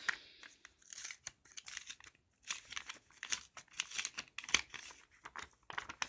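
Wrapping paper and packaging on a small gift are crinkled, crumpled and torn open in quick, close bursts of rustling with brief pauses between them.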